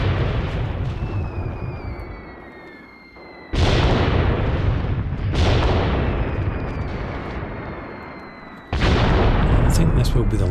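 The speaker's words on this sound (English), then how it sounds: "Here comes the mortar fire." Mortar fire in the video game Graviteam Tactics: heavy rumbling explosions strike in succession, with two sharp new blasts cutting in over the long rolling decay of earlier ones, loud and close.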